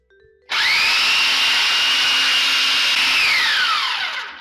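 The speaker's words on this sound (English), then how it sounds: "Into the processor and let it go for about 2 or 3 minutes." A food processor grinds golden flaxseed meal, its motor starting abruptly and holding a loud, steady high whine for about three seconds before winding down with a falling pitch.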